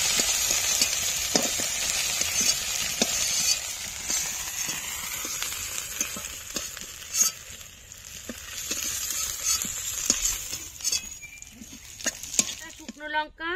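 Giant river prawns fry in hot oil in a village-style kitchen, a continuous sizzle broken by stirring scrapes and occasional crackles, with a voice heard now and then.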